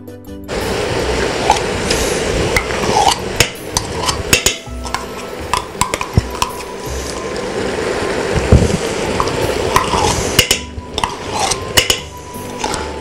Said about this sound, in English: Stir it up good.